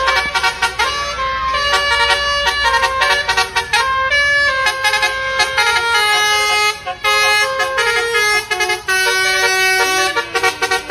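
A Rimba Raya bus goes by with its horn honking loudly over and over in a musical, multi-tone pattern that runs almost nonstop, close and dominant.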